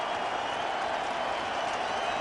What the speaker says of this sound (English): And now the crowd to its feet.